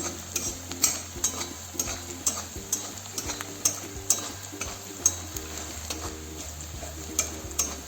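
Cumin seeds crackling in hot oil for upma while a small spoon stirs them in quick, rhythmic scrapes against the pan, with a soft sizzle running underneath and no voices.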